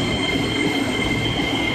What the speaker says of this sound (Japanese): インバータの音がいいですよね。